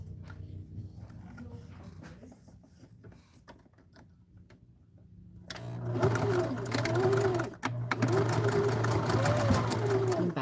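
A sewing machine back stitching a bag seam starts up partway through and runs loud and close as a steady mechanical whir. Quieter handling noises and soft talk come before it.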